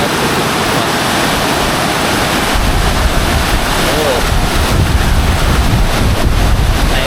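Heavy, continuous roar of fast-flowing floodwater, growing louder and rougher after a couple of seconds, with a brief exclamation from a man.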